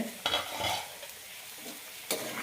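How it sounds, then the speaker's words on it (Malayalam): Dried prawn theeyal curry stirred in a pan: a low, soft bubbling simmer with a couple of brief spoon scrapes, quiet and close. "ഇളക്കാം"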